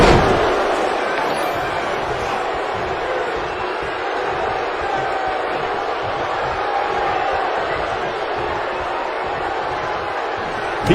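Game crowd noise in a wrestling video game swells as one wrestler pins the other, a dense, steady roar of cheering holding at constant loudness throughout, with no voices standing out.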